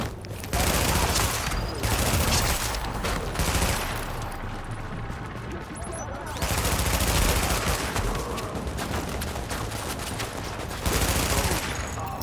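Gunfire in The Division, bursts of rapid automatic shots in several loud volleys separated by a short lull, close and dense throughout.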